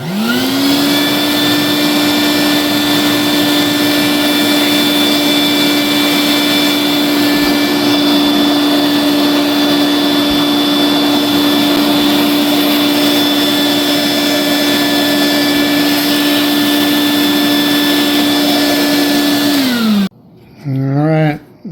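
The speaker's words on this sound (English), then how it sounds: "Make sure to vacuum out the metal dust before pulling the tape." A shop vacuum cleaner runs loud and close with a steady high whine while sucking up metal dust from a shotgun loading port mod, then cuts off abruptly near the end, leaving brief handling noise.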